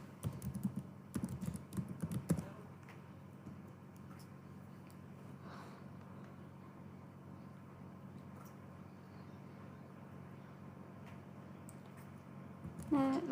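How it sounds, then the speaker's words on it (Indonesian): Typing on a computer keyboard produces scattered clusters of quick clicks, busiest at the start and end, with a quiet gap in between. "pertama dengan mengetik nama perusahaan"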